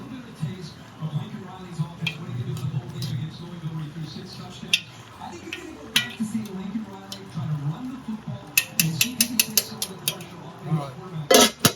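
A spoon lifting and turning Louisiana Cajun pork and sausage jambalaya rice in a pot, soft scraping and clinking of the spoon against the pot in irregular strokes, close but quiet beneath someone talking.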